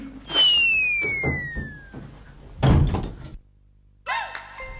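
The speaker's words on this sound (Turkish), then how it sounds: "Aa, kapı çalıyor hocam." Knocking on a door heard in a comedy scene, a few dull thuds close by, mixed with whistle-like tones and other effects, no talk over it.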